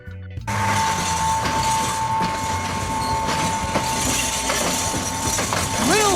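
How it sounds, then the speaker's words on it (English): A small, light railbus that looks like a school bus runs along countryside tracks, its steady rolling rumble continuous and fairly close, with a sustained high tone and scattered clatter over the running noise. "Railbus. Half bus, half train. It runs on tracks but looks like a school bus."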